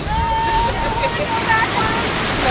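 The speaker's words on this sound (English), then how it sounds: "Oh, we've got some water here." Water splashes and rushes against a raft on a river rapids ride at Animal Kingdom, a dense, steady wash of spray and surf close by, with excited riders calling out over it.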